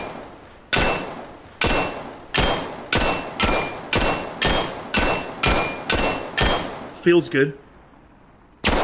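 Rifle fire in the VR shooter Vail VR on Meta Quest 2: about a dozen sharp, loud single shots fired at a steady, deliberate pace, each with a short decay. Someone speaks briefly before a final shot.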